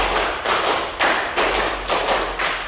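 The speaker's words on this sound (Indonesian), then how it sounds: "Oke, 2 kali tepuk 5." A group claps in unison, a sharp close series of about ten claps in two quick sets of five, with no talk.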